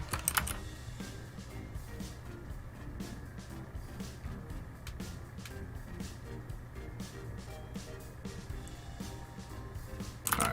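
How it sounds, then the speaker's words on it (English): Rapid keyboard typing with repeated taps on computer arrow keys while adjusting a design animation, steady clicks over a low hum, fairly close and moderately loud throughout. "I'm gonna just move this with my arrow keys here real quick"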